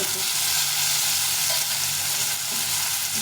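A large tomato frying in a pan gives a steady, loud sizzle with stirring scrapes throughout, no voices over it.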